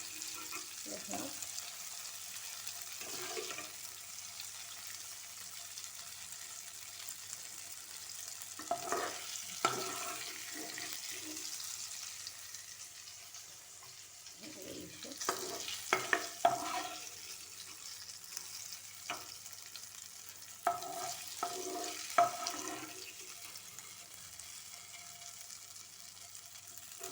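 Paneer pieces fry in a pan with a steady, soft hiss, broken by intermittent clatter and scraping as they are moved and turned.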